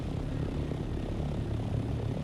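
A flying vehicle's engine in Dune Awakening drones steadily with a low, even hum throughout, close and constant with no talking.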